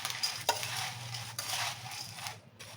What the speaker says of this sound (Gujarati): અત્યારે ચમચાથી મિક્સ કરીશું